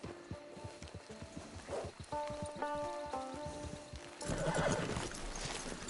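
A horse in Red Dead Redemption 2 whinnies near at hand over steady clip-clop hoofbeats, followed by a second rougher neigh and snort against soft outdoor ambience.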